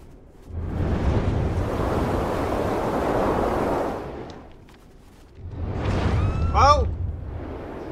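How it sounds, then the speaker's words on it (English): Gusting wind in the video game Never Alone swells in two long, loud whooshing surges with a deep rumble underneath and a lull between them. A brief voice-like sound rises during the second gust. "First wind is blowing other way and then other."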